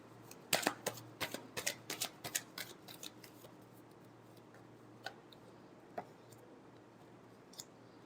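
Tarot cards are shuffled up close in a quick burst of crisp riffling clicks, which thin out into a few scattered soft taps and then near quiet.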